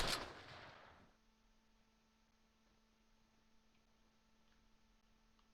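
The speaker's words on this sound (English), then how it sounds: "Somebody's shooting." Gunfire in the WWII video game Close Combat, set in fog near Val de Saire in August 1944, opens with one loud, sharp blast that rings off over about a second, followed by a low, quiet hum.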